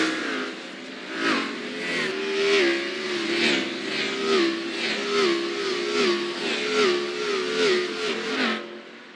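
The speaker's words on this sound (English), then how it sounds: "Cars firing the engines. They are ready to roll for the heat race here at iRacing Superspeedway." Several race car engines rev and rise in pitch together in an iRacing NASCAR heat race at the 3-mile iRacing Superspeedway oval, a steady, loud drone pulsing up and down with no voices.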